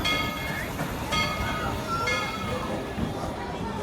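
Tweetsie Railroad train cars roll along the track with a steady rumble, faint wheel squeals and intermittent clicks, moderately distant and continuous, with a voice faintly present.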